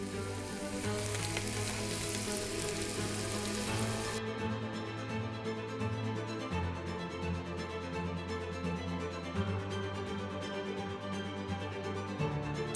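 Salmon fillet searing in a pan with melted butter, a steady close sizzle and crackle with fine popping spatter that continues throughout without pause.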